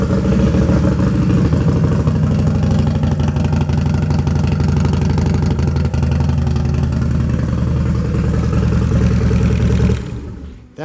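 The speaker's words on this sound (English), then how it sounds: "That's the sound of a 2-in-1 Python Performance exhaust system." 2006 Harley-Davidson Dyna Super Glide Custom with a Python 2-in-1 exhaust idling close by: a loud, steady, lumpy low rumble that holds until the engine cuts off near the end, with no talking.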